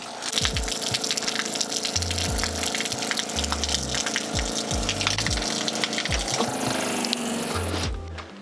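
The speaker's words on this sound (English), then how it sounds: "Water pump works." A van's freshwater pump runs steadily, feeding a back-door shower, with loud continuous gushing water and intermittent low pump pulses throughout, no voices.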